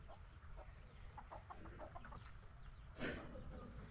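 Free-range chickens on a small home farm cluck faintly in short scattered bursts, with a slightly louder call near the end, all quiet and somewhat distant.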